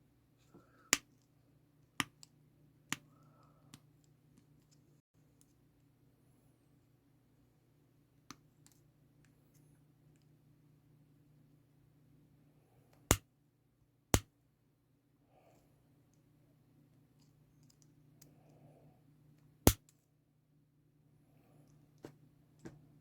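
Sharp, isolated snips ring out as excess fret wire is cut from a 90s PRS Custom 24 guitar during a refret, each clip of the cutters a single crisp click over a low steady hum.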